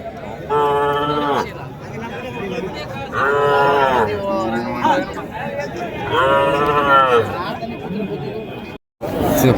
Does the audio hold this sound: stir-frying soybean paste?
no